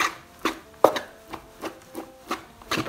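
A paddle cuts through vinegared sushi rice, giving soft, irregular scraping and tapping strokes about every half second, close and fairly quiet.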